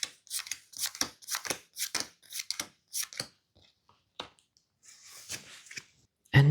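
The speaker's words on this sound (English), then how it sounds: "I discard this card and I draw a new hand of 8 cards" Playing cards from a Kinfire Delve deck being discarded and a fresh hand of eight drawn, a run of crisp, close card flicks and slides in quick succession, then a few softer shuffling sounds and a final thump.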